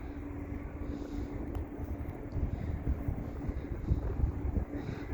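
Steady, loud wind buffeting an outdoor microphone beside a railway yard where locomotives and rail cars are parked, a constant low rumble that swells in gusts toward the end, with no other sound clearly audible.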